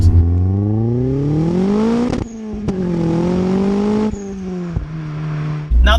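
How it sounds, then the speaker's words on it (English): A turbocharged Mazda MX-5 RS with a 6-speed gearbox revs hard under load, its engine note climbing through the gears with sharp shift breaks and brief pauses, loud and close. "Under load, this car squats now and absolutely shoots off. Oh, it makes a beautiful sound."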